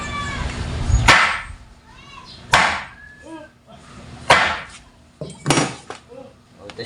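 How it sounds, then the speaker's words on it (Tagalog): A sledgehammer strikes a bent metal motorcycle fork inner tube to straighten it. Four heavy, ringing blows land about a second or more apart, close and loud, with a voice talking between them. "At dyan po natin siya pupukpukin mga idol. Gamit po itong maso."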